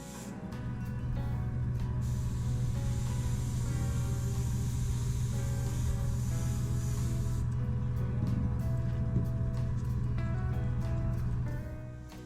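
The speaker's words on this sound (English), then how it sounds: "And now a spray with field blue to blend everything together." A steady airbrush-like spray of field blue paint hisses continuously over a low compressor hum, close and even, onto a 1/700 scale HMS Exeter sea diorama, with faint ticking near the end.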